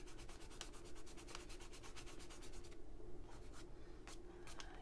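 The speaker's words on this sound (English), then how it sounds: "I'm just going to rub it in here a little bit, and I'm going to move it around a little bit with my finger." A finger rubs chalk paint into an art journal page, giving a faint, soft, steady scratching rub with quick rhythmic strokes that slow toward the end, close up with no talk.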